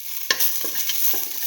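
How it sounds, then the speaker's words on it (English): Shallots fry in a pan with a steady, close sizzle, broken by a few sharp clicks of a utensil stirring against the pan. No one speaks. "let the shallots fry for some time"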